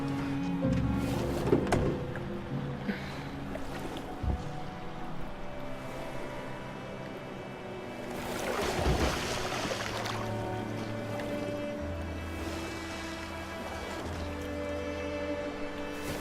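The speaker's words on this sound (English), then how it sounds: "I love the rowing in unison thing that they're doing here." In the game Detroit: Become Human, characters row a boat in unison across open water, with repeated oar strokes and sloshing splashes under a low ambient hum and music.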